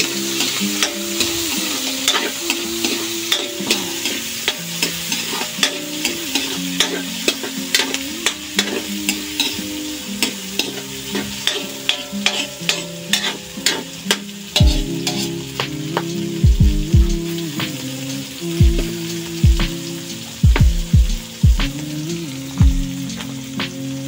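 Garlic, onion and tomato sautéing in a pan, a continuous loud sizzle broken by frequent clattering stirs and scrapes of a utensil, with sharp low knocks growing more frequent later on.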